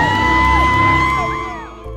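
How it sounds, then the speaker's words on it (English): A stadium crowd at a college football game roars and whoops as the team runs out of the tunnel, a loud sustained swell of mixed yelling that eases off toward the end. "The crowd lets out a deafening roar of support."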